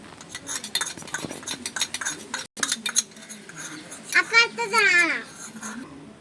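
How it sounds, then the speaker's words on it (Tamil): A big ladle stirs inside a toy cooking pot during pretend cooking, giving scraping and clinking strokes, while a child and an adult chatter over the clatter. "இந்த பெரிய கரண்டி வச்சு நம்ம கிண்டிக்கலாம்"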